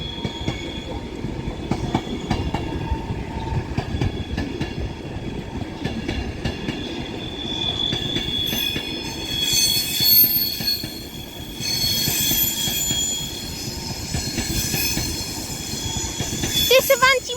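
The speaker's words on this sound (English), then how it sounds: "This Avanti West Coast 390 Pendolino is forming the 1523 Avanti West Coast service to Liverpool Lime Street from London Euston" Avanti West Coast Class 390 Pendolino rolling past at Edge Hill in Liverpool, a sustained rumble of wheels on rail with high metallic squealing rising in the second half.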